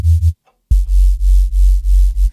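A drum and bass bass patch built in the Noize 2 plugin pulses in loud, deep rhythmic swells with a hissy textured top, stopping briefly before resuming in steady repeated throbs.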